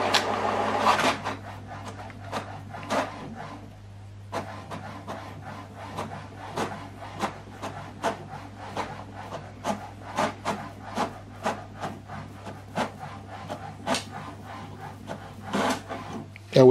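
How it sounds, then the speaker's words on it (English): An HP DeskJet printer runs a double-sided colour print job, giving a steady hum under a long series of regular, close-up mechanical clicks and rubbing paper-feed strokes, with a louder clack at the end. "This is the document we printed out, double-sided, colored."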